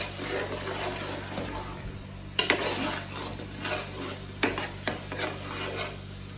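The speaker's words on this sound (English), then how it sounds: "Stir together." Vegetable sauce with fresh pepper being stirred in a pot, a soft continuous scraping and faint sizzle broken by a few sharp clinks of the spoon against the pot rim.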